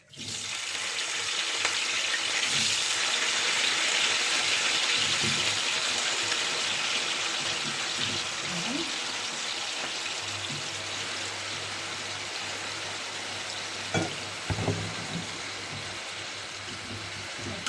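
Diced eggplant dropped into hot oil in a home kitchen, frying with a loud, steady hiss and crackle throughout, a few clatters of utensils near the end.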